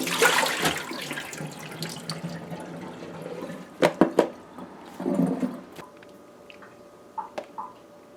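Salted fish rinsed under a running kitchen tap, with a steady splashing stream at first, then intermittent sloshes, drips and handling noises as the water is turned and the fish moved, no talk.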